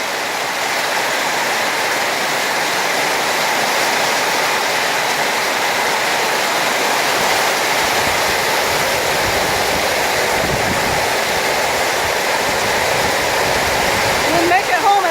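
Flash flood water rushes through a yard during a hailstorm, a loud, continuous roaring wash that stays steady throughout, with some rumble underneath.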